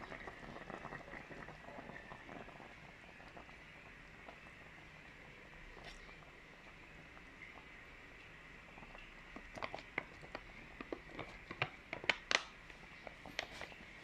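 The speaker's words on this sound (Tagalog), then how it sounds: "Lagyan na natin yung gata. Buhos na natin lahat." Coconut milk is poured into a simmering pot of tuna stew with kamias, giving a soft, steady bubbling and liquid patter, with a few sharper pops and splashes toward the end.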